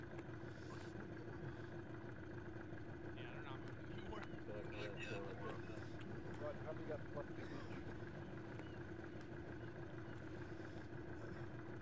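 A vehicle engine idles steadily in Arma, a low constant drone with a rough mechanical rumble running the whole time, while people talk over it.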